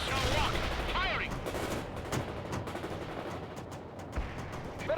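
Gunfire in the real-time strategy game World in Conflict, with a dense stream of sharp shots and bursts at moderate distance, some heavier thumps mixed in, under faint battlefield ambience.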